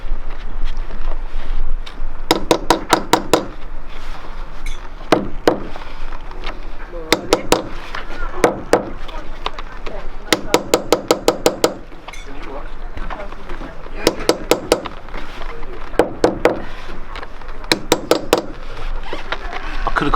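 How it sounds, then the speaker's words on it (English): Repeated metallic hammer taps in quick clusters of several strikes, punching small round holes in a pontoon, separated by pauses, close by over a steady background rumble. "I could have got a bigger hammer, I suppose."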